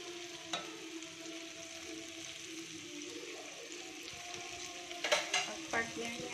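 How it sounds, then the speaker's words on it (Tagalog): Sautéed string beans with garlic, onion and fried fish stirred in a pan, frying with a steady faint sizzle and a few sharp scraping clacks of the utensil near the end. "Ginisa ko na yan sa bawang, sibuyas, at saka halo ko ay isda."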